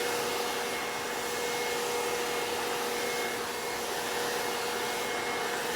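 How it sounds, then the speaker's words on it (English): A Greenworks 40V cordless 2-in-1 leaf blower vacuum runs at a steady, continuous whine with a broad rushing airflow hiss, close and unchanging throughout, with no talking. "It's a great tool for blowing away the most stubborn dirt."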